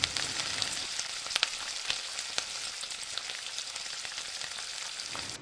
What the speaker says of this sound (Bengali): একটি মিডিয়াম সাইজের আলু টুকরো করে কেটে দিয়ে দিচ্ছি আর দিচ্ছি সামান্য লবণ দিয়ে লাল করে ভেজে নিচ্ছি